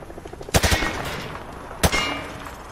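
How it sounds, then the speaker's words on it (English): Rifle fire at range targets in the video game Call of Duty Modern Warfare 2 Remastered: two short, loud bursts of rapid shots, each trailing off with a brief ring. "Grab that weapon off the table and fire at the targets behind you."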